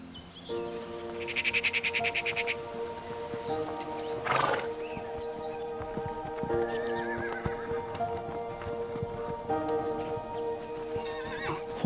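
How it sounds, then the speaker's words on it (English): Wild Dülmen horses outdoors give a loud shaky whinny, then a shorter neigh, with hooves clip-clopping intermittently and birds chirping faintly in the background. "Horses are well equipped to weather all seasons in the wild."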